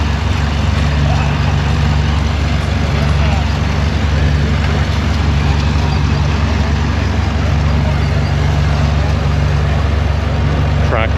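A vintage tractor drives a threshing machine by a long belt at a harvest festival, breaking up straw: a loud, steady engine drone with a low hum and mechanical clatter that runs unbroken throughout.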